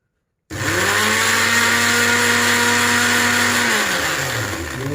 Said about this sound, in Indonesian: Kemudian kita blender sampai halus ya, seperti ini.